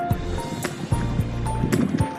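Sea waves wash and churn near the shore at Bato, Leyte, on a windy day, with low rolling rumbles and splashy surges up close, steady and fairly loud throughout.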